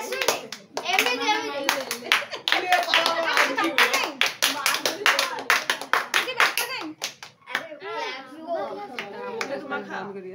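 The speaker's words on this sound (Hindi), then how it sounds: "अरे ताली बजे" People clap along at a birthday celebration in a lively, continuous patter while children and adults talk and call out over it close by.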